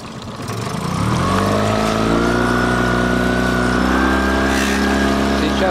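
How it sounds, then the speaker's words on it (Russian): A small boat motor starts at sea after fishing on the Black Sea, catching within the first second and settling into a loud, steady droning hum with a low tonal whine, close and alone. "Запустили мы моторчик."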